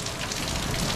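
Steady rain falls in a dense, even wash on an outdoor surface at a beach resort, a continuous hiss with no break and no voices.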